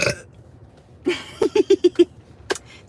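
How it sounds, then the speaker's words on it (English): A person belches after drinking coffee, a short initial burp followed by a rapid series of five gurgling pulses and a final brief one, close and fairly loud with no talking. "that was a coffee burp"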